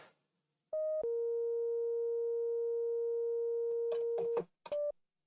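A pure sine test tone from a Pultec EQP-1A EQ clone patch holds steady for several seconds after a brief higher blip, then a few sharp clicks and bursts interrupt before a short return of the tone.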